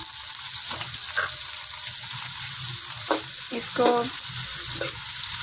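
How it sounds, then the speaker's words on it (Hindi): Onions going into hot ghee for a bhindi-onion sabzi give a steady sizzle and fry hiss, with brief stirring clinks and a few spoken words over it. "तो अब हम इसमें प्याज डाल देंगे।"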